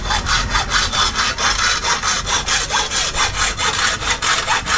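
A hand saw cuts through wood in steady, rapid back-and-forth strokes, loud and close, with nothing else heard.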